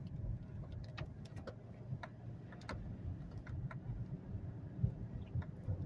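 A 2008 Saturn Vue XE rolling over a rough road, with a low cabin rumble under a scatter of small ticks and rattles, steady and moderately quiet from inside the car.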